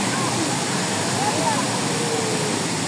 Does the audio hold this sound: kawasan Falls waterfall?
yes